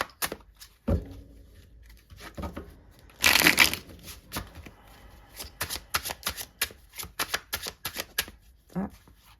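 Tarot cards shuffled by hand for a love card reading, a burst of quick riffling flutter followed by a run of soft, rapid card slaps and flicks, close and fairly quiet, with no talking.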